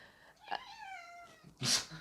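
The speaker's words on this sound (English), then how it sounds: "one of our cats has just walked in" An indoor cat gives one drawn-out meow that rises and then falls, followed by a sudden louder rustle.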